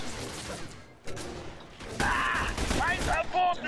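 Gunfire and heavy combat noise in The Bureau: XCOM Declassified video game, bursts of shots and crashing impacts growing louder midway, mixed with game sound effects and voices.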